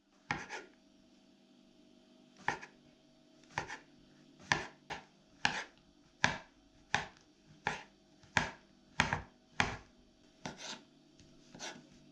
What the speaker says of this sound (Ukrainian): Гриби треба порізати на невеличкі шматочки і бажано навіть дрібні